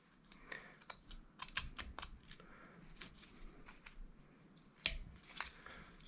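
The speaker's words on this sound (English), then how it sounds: "go in there and take that piece of wood out, right up to it" Pocket knife whittling a small wood carving: quiet, close scraping and shaving cuts in irregular short strokes, faint and intermittent, no talking.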